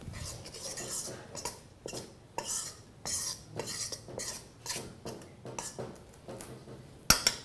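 A spoon stirs dry vegan dessert ingredients and baking powder in a bowl, making a steady rhythm of soft scraping strokes and light clinks that repeat about every second.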